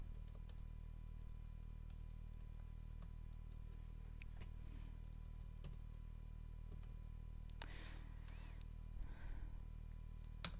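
A drafting command typed on a computer keyboard, soft scattered key clicks over a quiet room hum, with a brief cluster of louder clicks near the end.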